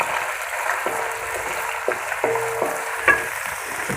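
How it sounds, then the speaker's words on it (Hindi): Chicken liver sizzling and frying in a pan, a steady crackling hiss close by, with occasional light clinks of stirring. "तो इसे मैं अच्छी तरह से फ्राई कर लूँगी गोल्डन ब्राउन होने तक"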